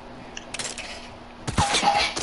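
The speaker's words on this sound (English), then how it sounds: "Who is shooting us?" Fortnite gunfire sounds as two short bursts of shots, a brief faint volley followed by a louder, closer rattle of rapid fire near the end.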